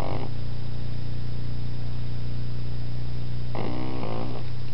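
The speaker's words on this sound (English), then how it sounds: "Listen to this thing snore. Just a baby." A pug puppy snoring nearby: a brief snore tail at the start, a long pause of steady hum, then another raspy, nasal snore of under a second.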